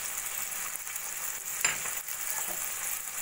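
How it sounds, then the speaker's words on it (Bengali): Spices with salt, turmeric, cumin and chili powders frying in a pan for paneer masala, a steady broadband sizzle, close and fairly quiet, with a brief louder scrape of stirring partway through. "ভালো করে মশলাটা আমি কষিয়ে নেব"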